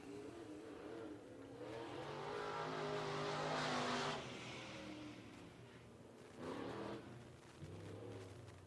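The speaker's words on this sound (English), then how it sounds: "whoever the 3 car is, they're actually looking pretty good tonight" A race car lapping the track on opening day, its engine swelling to a loud pass in the middle, fading, then surging again near the end, heard from a distance over general crowd ambience.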